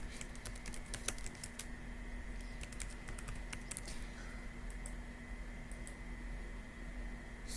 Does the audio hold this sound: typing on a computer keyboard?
yes